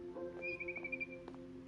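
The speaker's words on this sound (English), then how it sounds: "Then I heard chirping outside my window." Faint bird chirping outside a window in the game What Remains of Edith Finch, a few soft tweets and a brief high whistle over a low ambient hum.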